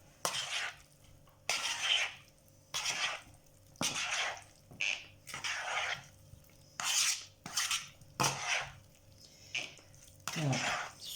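A vinegar and cabbage mixture is stirred in a bowl: a series of about a dozen short, close scraping and swishing strokes in an uneven rhythm, with quiet pauses between them.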